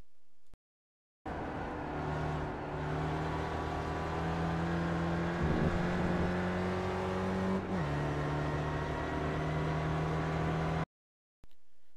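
A Skip Barber SRF race car engine at Watkins Glen in iRacing drones steadily and loud throughout, with a brief dip and a pitch drop partway through as the throttle changes, and no talking.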